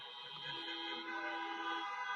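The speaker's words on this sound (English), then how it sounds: "So I brought a little air horn here." A blaring air horn sounds a sustained, harmonic tone for about two seconds, steady and fairly strong, with no talking, at a campaign drive-in rally in East Las Vegas.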